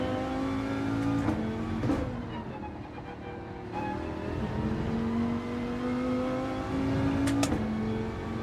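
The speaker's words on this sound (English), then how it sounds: "Let me just rev it out a bit more." A car engine in Gran Turismo 7 revving hard, a loud continuous engine drone rising and falling in pitch with several rev sweeps and brief gear-shift breaks, steady and close throughout.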